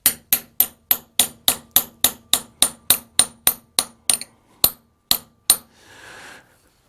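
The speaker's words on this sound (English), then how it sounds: "This is a punch I like to use. It's got a threaded nylon tip." A handgun sight is tapped into its dovetail with a threaded nylon-tipped punch: about sixteen crisp, evenly spaced taps close up that slow toward the end, followed by a soft scrape.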